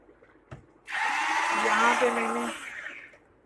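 An electric beater whirs loudly in a homemade vanilla ice cream mixture, a steady motor buzz that starts after a small knock, runs for about two seconds and then fades.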